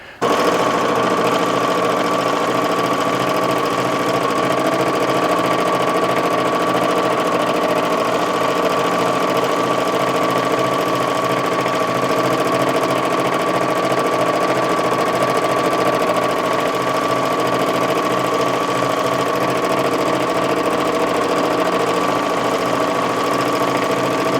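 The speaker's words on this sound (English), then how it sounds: "I want to sew on a little bit to show you kind of how easy it is to use." Sewing machine running on a Grace Mini tabletop fabric quilting frame, a continuous loud close hum with a steady fast stitching rhythm, unbroken for the whole stretch with no talking.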